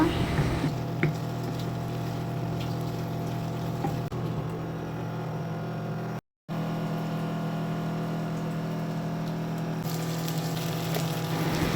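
Fish curry with fried potatoes gets stirred in a pan with a continuous wet sizzle and scraping. The sound is close and steady over a constant low kitchen hum, with a brief cutout midway.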